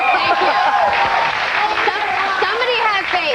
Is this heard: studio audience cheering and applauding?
yes